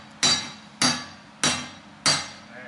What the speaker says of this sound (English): Don't forget to use the other manifold to do your beating with.